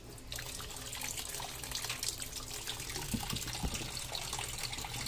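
Water runs steadily from a faucet, a soft continuous splash and hiss close by at low volume, with a few small clunks partway through and no voices.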